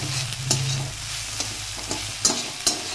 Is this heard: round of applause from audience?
no